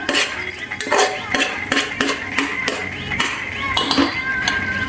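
A masher works through cooked vegetables for pav bhaji in a metal pot, giving repeated close clinks and knocks in an uneven rhythm with a soft squelch between strokes.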